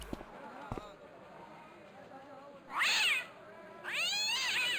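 Cat meows from the video game Broken Sword: The Shadow of the Templars: two drawn-out, wavering meows in the second half, following a brief spoken word at the start, over a quiet game ambience.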